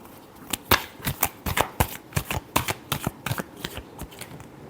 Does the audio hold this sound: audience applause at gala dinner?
no